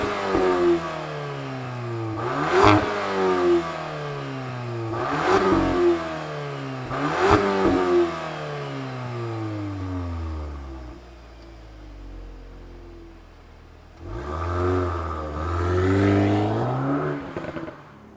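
A 2022 VW Golf R Mark 8 with 4Motion all-wheel drive starts up and revs, giving three sharp, loud blips that fall away, a quieter idle, then a longer sustained rev near the end.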